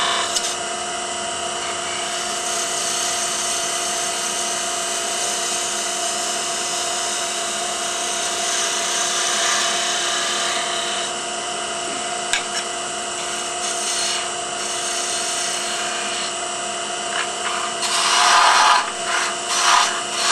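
A lathe gouge cuts a wooden wine stopper with the bevel rubbing, giving a steady, continuous scraping hiss over a constant motor hum. It grows rougher and louder near the end, with no voices.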